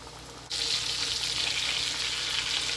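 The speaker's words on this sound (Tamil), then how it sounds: "இப்படி நல்லா ஒரு உதறிட்டு எண்ணெயில் போட்டுடலாங்க." Flour-coated chicken pieces for Indian-style KFC fried chicken drop into hot oil, and a loud, bright deep-frying sizzle erupts suddenly and holds steady.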